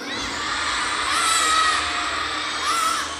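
Shrill, continuous shouting and cheering from a packed audience of children at a Hot Wheels Monster Trucks Live Glow Party fills the space at a steady, loud level, with brief swells of high-pitched screams.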